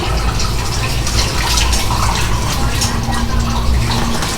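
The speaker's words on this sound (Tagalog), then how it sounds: "Ito tubig." Water runs steadily from a tap, heard as a continuous close splashing hiss that fills the whole clip, with no clear voices.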